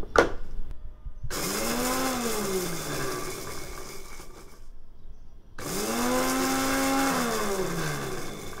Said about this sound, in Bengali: গ্রাইন্ডারের জার বলতে ব্লেন্ডারের সব থেকে যে ছোট জারটা সেটা নিয়েছি, যেটাতে শুকনো মশলা গ্রাইন্ড করে